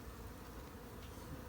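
Honey bees at a hive give off a faint, steady buzzing drone that holds for a moment with no voices.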